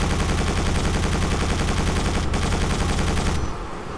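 Loud, sustained rapid turret gunfire in Quake 4, a dense machine-gun stream that runs steadily for several seconds and then cuts off into quieter background noise.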